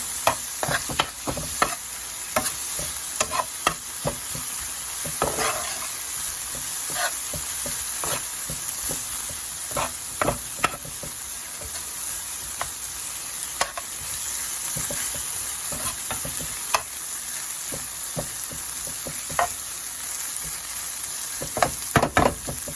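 Food sizzles and fries in a pan for jerk salmon rasta pasta. A steady crackling hiss runs throughout, broken by irregular clicks and scrapes as a utensil stirs it.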